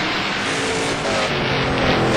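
A virtual race car in a racing video game set at Le Mans, badly damaged at front and back, gives a continuous loud engine roar with a broad, steady hiss and slight revving swells throughout, and no voices.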